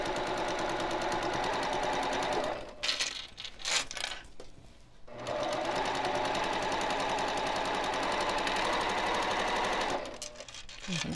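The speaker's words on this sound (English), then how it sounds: "Got this new machine. It's a Janome HD9. I love it. It's just a straight stitch machine." A Janome HD9 straight-stitch sewing machine, run with a knee bar, stitching a pillowcase: a loud, steady, rapid mechanical whir that stops briefly once midway and again near the end, with no talk.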